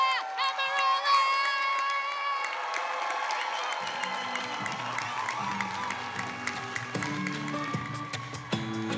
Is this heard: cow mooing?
no